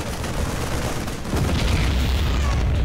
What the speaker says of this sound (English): Let's give off a really satisfying explosion.